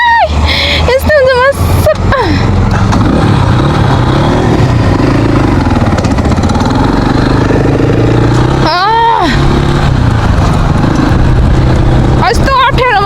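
A motorcycle runs along a road with a steady engine drone throughout, close by, under loud ongoing talk.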